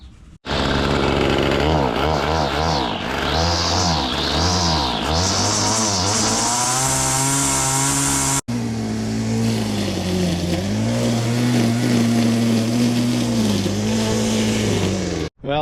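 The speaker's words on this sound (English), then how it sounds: "now we're ready to go weed whack some grass" A gas-powered weed whacker cutting grass runs loud and steady at close range, its engine whine rising and dipping with the throttle and briefly cutting out partway through before carrying on.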